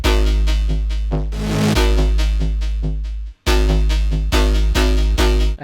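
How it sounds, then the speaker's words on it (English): A heavy, booming 808 bass line built from three stacked Serum synth preset layers in a 140 BPM UK garage track, loud and sustained with rhythmic note changes and a brief dropout partway through. "A heavy sort of 808 sound with some extra layers on top."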